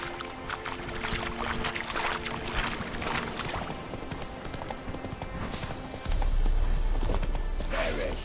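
Hooves of the horse Roach beat in a steady galloping clip-clop in The Witcher 3, running continuously under game ambience and background noise, with a louder rumbling stretch near the end.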